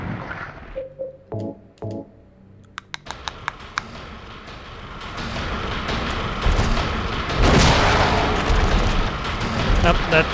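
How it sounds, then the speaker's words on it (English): Shotgun blasts in the video game Silent Hill 2 ring out as sharp bangs over a dense, noisy game soundscape, with several quick clicks and hits early on, then a continuous rumbling wash of sound; people talk over it. "that's the shotgun"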